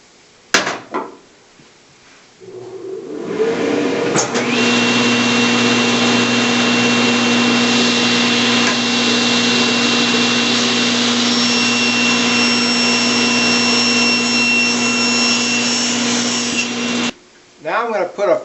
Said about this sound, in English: It does a good cross cut and a good rip.